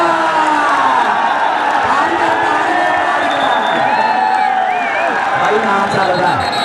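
Large crowd in the stands at a Bari Gujjar Cup semi-final kabaddi match, Shani Basra vs Shoqat SapanWala, cheering and clapping in a steady, dense roar, with whoops rising over the noise.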